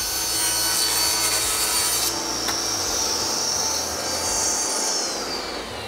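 A Festool CSC SYS 50 cordless table saw whines steadily as its blade bites into wood, the tone shifting into a high-pitched cutting rasp partway through.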